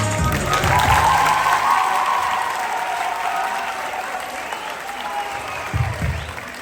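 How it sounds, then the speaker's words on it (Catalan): A school end-of-year ceremony crowd applauds loudly after a dance performance, a dense sustained roar of clapping with a few cheers and a voice briefly audible near the end. "Un fort aplaudiment perquè ha estat genial!"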